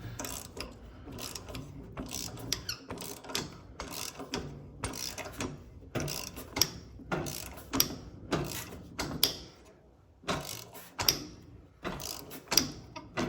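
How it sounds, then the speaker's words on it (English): A Snap-on ratchet that doesn't engage fully is worked on a bolt, giving repeated bursts of clicking pawl strokes at an uneven rhythm, close and clear with no talking. "This snap-on ratchet does that, where it like doesn't engage fully."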